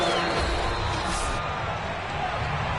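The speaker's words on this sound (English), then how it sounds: "Plenty of shouts from this crowd as they watch the replay" Dense stadium crowd at a football game roaring and shouting continuously, a loud wash of many voices close around, with scattered whoops rising out of the noise.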